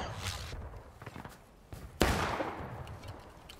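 Video game gunfight: a loud sharp shot stands out midway, with scattered fainter shots and thuds before it and a continuous noisy game background throughout.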